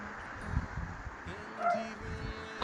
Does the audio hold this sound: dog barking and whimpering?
yes